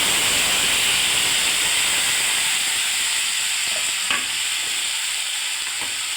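Vegetables sizzle loudly in hot oil with mustard and dried chili for a tomato chutney, a dense steady hiss close up, with a few faint clicks from stirring.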